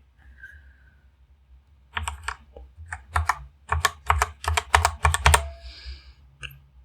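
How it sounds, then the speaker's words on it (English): Typing on a noisy mechanical computer keyboard, close up, in rapid irregular bursts of sharp clicks after a quiet start, with no talking. "This is the mechanical keyboard which will make lots of noise."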